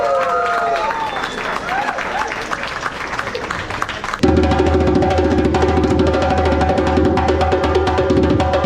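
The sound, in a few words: audience applause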